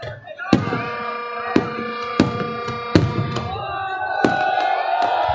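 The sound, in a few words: fireworks at Minar-e-Pakistan on Independence Day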